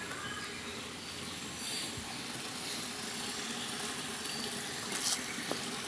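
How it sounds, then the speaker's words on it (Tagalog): River water flows steadily at a nature resort in Boulder Valley, a continuous broad rushing wash with no voices. "Ang ilog."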